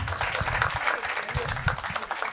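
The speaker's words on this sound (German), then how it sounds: "Mal Applaus für die besten Lehrer auf der Welt, Mann." Audience at a live stand-up comedy show applauds in a continuous burst of clapping, with crowd voices and cheering mixed into the noise.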